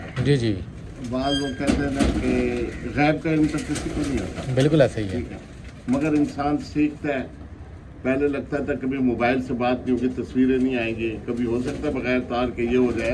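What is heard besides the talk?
pigeon cooing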